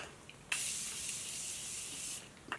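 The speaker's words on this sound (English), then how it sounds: "I'm gonna give my face a quick spray of the Morphe Continuous Setting Mist." Morphe Continuous Setting Mist sprayed onto a face: one steady, close hiss of fine mist lasting about a second and a half, with a quiet click at the start and another at the end.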